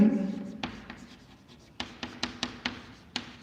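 Chalk or marker strokes on a classroom board, a quick series of sharp taps and scratches at close range, with a teacher's voice briefly audible at the start.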